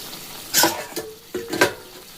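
Chopped vegetables tipped into a pot of boiling khichuri, the Bengali rice-and-lentil dish: two short, close bursts of splashing and clattering with a faint sizzle between them.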